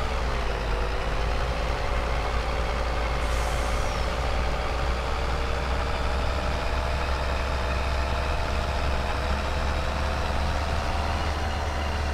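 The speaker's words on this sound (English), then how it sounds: "Now we'll go dump these and return our dump truck to its rightful home." Dump truck idling in Farming Simulator 22 at a logging camp, a steady low diesel drone held throughout with a faint hiss of air brakes, loud and continuous with no talk.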